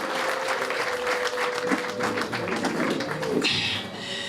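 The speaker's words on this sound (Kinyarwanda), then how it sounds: "Reka nsabe mukomere Imana amashyi muyishimire" Wedding guests applaud in a dense, steady burst of clapping that carries on and then thins out near the end, with a faint voice underneath.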